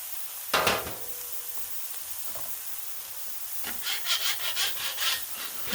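A metal spatula scrapes across a Blackstone griddle cooking buttery Angus burgers, one sharp scrape early, then a run of quick rhythmic rasping strokes near the end, fairly close with quiet gaps between.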